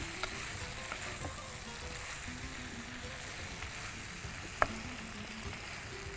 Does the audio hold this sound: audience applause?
no